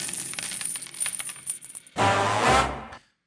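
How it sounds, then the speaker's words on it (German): A coin drops and rings as it bounces, a bright metallic clatter lasting about a second that follows a stretch of noisy background chatter and then cuts to silence. "denn springend klingt die Münze."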